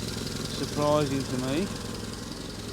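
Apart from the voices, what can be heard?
car engine running with leaking exhaust hissing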